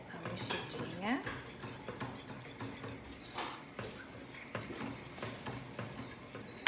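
Spoon scraping and clinking against a pot while cream is stirred into Brazilian creamed corn, a busy run of metallic scrapes and soft sloshing strokes, fairly close and moderately loud.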